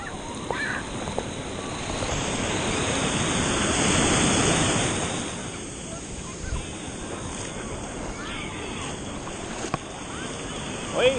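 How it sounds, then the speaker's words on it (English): Ocean waves at almost low tide rolling in under strong wind, a steady broad roar of surf with gusty buffeting, a swell peaking midway and no clear speech. "Waves are terrible today."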